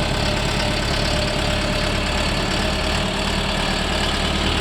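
A Shifeng 404 tractor engine idles close by with a steady, loud, low chugging rumble that stays even throughout.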